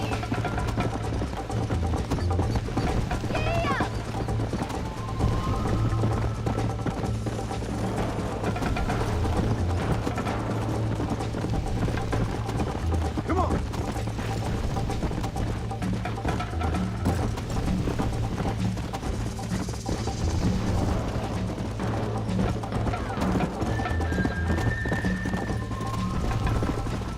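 A horse gallops in Red Dead Redemption, with fast, steady hoofbeats that run continuously for the whole stretch, plus occasional snorts and whinnies over a constant low rumble.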